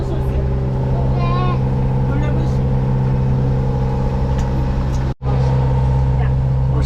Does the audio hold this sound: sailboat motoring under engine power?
yes